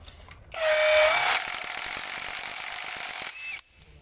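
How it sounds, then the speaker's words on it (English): A power tool whines and ratchets as a nut is tightened on the front suspension of a Ford Fiesta Mk1, a steady mechanical buzz lasting a few seconds before cutting off, close and fairly quiet. "I can now tighten this nut up and take the pressure off the spring."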